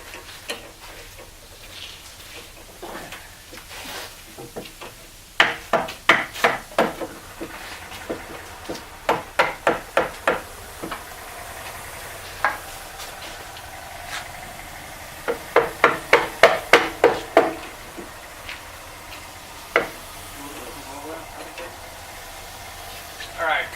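A hammer strikes a bolt during installation of an engine on a Wharram Tiki 38 catamaran, in sharp metallic blows that come in quick bursts of several hits separated by pauses, with people talking in between.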